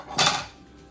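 A single metallic clank as collard and kale greens are handled in a metal pot for rinsing, brief and close, then fading to quiet.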